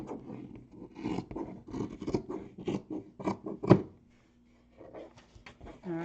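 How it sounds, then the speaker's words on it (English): Scissors cutting through fusible fleece backing on a fabric zipper bag piece, a series of close, soft, rhythmic snips and rasping cuts, then a brief pause before a few more. "I'm going to cut through the fusible fleece, which is on the back of this,"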